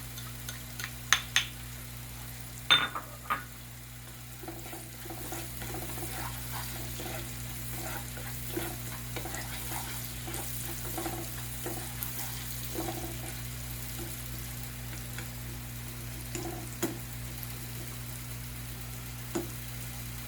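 Garlic and onions frying in a pan, a soft continuous sizzle under a steady low hum, with a few sharp clinks and scrapes of stirring early on and scattered faint clatters later.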